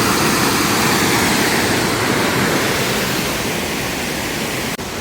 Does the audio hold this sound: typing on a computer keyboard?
no